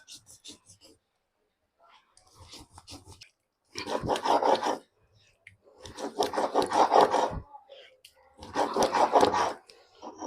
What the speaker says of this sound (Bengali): আমি শিলেই বাটনাটা করে নিই তাতে ভালো স্বাদ হয়